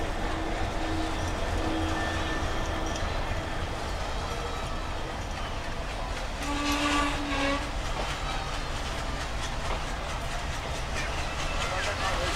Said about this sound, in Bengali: আর আমাদের ট্রেন ছেড়ে দিলে হচ্ছে বেনাপোল স্টেশন থেকে